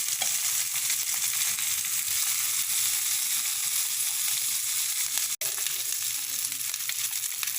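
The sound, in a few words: mutton chops sizzling while frying in a pan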